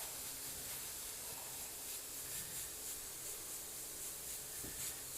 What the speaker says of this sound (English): I'm just going to mist this whole thing so it's all there